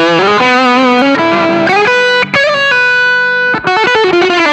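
Electric guitar played through a boost pedal on a Fly-Rig pedalboard, loud sustained chords and single notes ringing out with a slightly driven, harmonically rich tone, two brief pauses between phrases, no talking.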